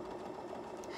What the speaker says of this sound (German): Dann treten wir hier drauf und die Maschine macht das.